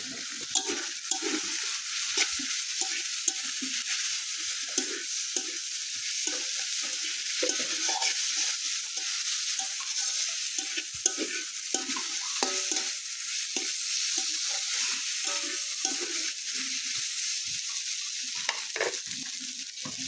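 Chili powder, green chilies and turmeric fry in hot oil with a steady close sizzle, broken by frequent scraping stirs of the spoon against the pan, with no talking.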